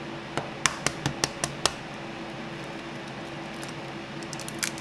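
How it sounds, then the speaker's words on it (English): Tough-shelled organic eggs are cracked in a kitchen, giving a quick series of about six sharp taps and cracks close by, then a quieter stretch with a few light clicks near the end. "These are all organic eggs, and the shells are much, much tougher to crack"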